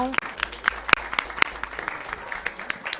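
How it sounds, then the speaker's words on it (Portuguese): Scattered applause in a legislative chamber for a deputy's birthday: irregular sharp claps of varying loudness, some close and crisp, mixed with background voices. "Uma salva de palmas para o deputado, então."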